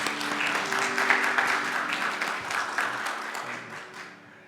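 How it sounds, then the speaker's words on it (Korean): A church congregation at Sunday worship applauding to welcome a visitor, a full wash of many hands clapping that holds steady and then fades out near the end. "박수로 환영하겠습니다."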